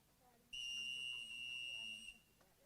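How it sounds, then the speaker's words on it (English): A referee's whistle sounds during a Jamaican high school track race, one long steady shrill blast of about a second and a half signalling one lap to go, with a commentator's voice continuing underneath. "So when you hear the whistle, you know it's 1 lap."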